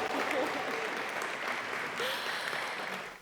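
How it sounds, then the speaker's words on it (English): Wedding guests at a reception at the National Gallery of Canada in Ottawa applaud, a dense, even burst of clapping that fills the room for a few seconds before tapering off. "give them a hand of applause"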